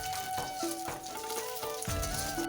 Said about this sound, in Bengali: ডিমগুলোকে আমি মানে একটুখানি লাল লাল করে ভেজে নেব